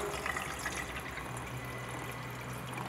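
Tap water runs steadily into the tank of a Kangen K8 water ionizer, making a continuous, fairly close rushing and filling sound with no pauses.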